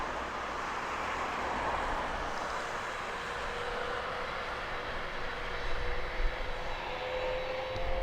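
An aircraft taxis at East Midlands Airport, heard as a steady, distant engine rumble and hiss with a faint whine, even and unbroken throughout.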